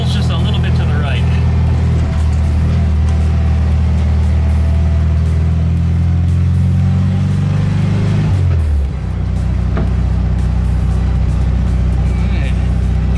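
A VW Thing drives along with a loud, steady low engine drone and road rumble up close, the pitch dropping as it slows near the end, while someone talks over it.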